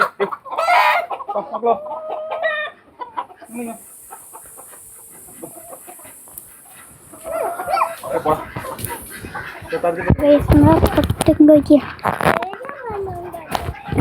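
Chickens, including a rooster, cluck in bursts at close range on a home farmyard, with people talking and moving about loudly over and between the calls.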